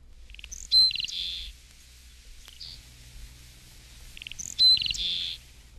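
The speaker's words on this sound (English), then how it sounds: "232, Seaside Sparrow." Seaside Sparrow song: two short buzzy phrases about four seconds apart, each opening with a few thin clicks and ending in a harsh trill, heard against a quiet background with low hum.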